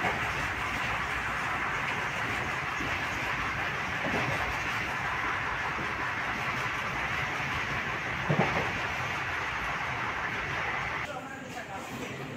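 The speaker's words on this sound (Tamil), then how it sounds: "அருப்புக்கோட்டை ரயில்வே ஸ்டேஷன்லேருந்து டிபார்ட் ஆகி போயிட்டுருக்கோம்" A Silambu Express passenger train runs steadily after pulling out of Aruppukottai station in the early morning, a continuous loud rumble with wheel noise throughout, one brief clank near the end before the sound thins.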